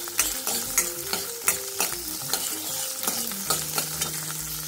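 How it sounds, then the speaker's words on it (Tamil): Garlic sautés in a pan for homemade garlic pickle, giving a close sizzling hiss broken by repeated rhythmic scrapes and knocks of a stirring spoon, with no voices. "இப்போ நல்லா பூண்டு வதங்கின்னு இருக்கு"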